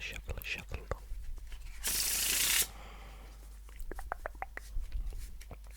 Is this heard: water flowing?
no